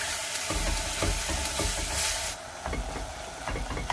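Ground meat for a lasagna sauce, seasoned with cracked black pepper and dried Italian herbs, sizzles and hisses loudly in a pan, with a few stirring scrapes breaking through the constant frying.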